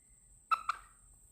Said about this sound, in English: my brown-eyed little chicken